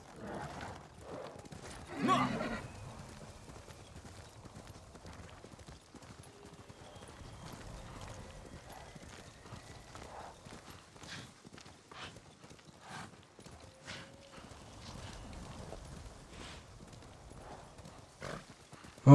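Horse hoofbeats during a ride in the video game Ghost of Tsushima, a steady clip-clop of walking hooves with an occasional whinny, fairly soft and continuous, with someone talking over it.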